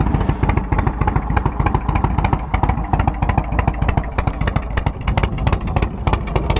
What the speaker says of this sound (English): Fires right off. Got a real nice rumble to it.